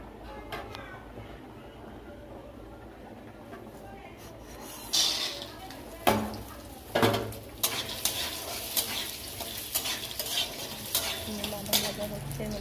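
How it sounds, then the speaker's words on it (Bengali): Peanuts fry in hot oil in a pan with occasional stirring scrapes and clatter, quiet at first and then a run of louder sizzle and utensil bursts; talk can be heard in the background. "বাদাম ভাজা হচ্ছে"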